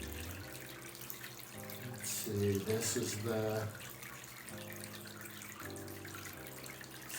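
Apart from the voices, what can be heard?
water poured onto a potted good luck plant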